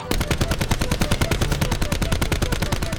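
Rapid automatic fire from the ICR rifle in Call of Duty, a dense, steady burst of sharp, evenly spaced shots running the full length, loud and close with no talking over it.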